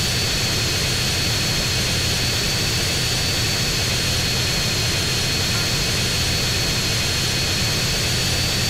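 A jet plane's engine roars steadily in Grand Theft Auto San Andreas during a flying race. The loud, sustained whine and rumble hold at an even level throughout.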